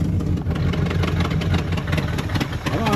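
A Ford Dentside F150 pickup truck's engine runs loud and close, a rough, steady low rumble with slight surges in speed, no talk over it.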